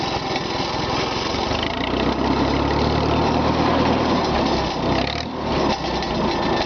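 A small gasoline engine with a carburetor, started off a 12-volt automotive battery and smoking a little, runs continuously with a loud, steady, throbbing drone, close by, with a slight dip in pitch near the end and no talk.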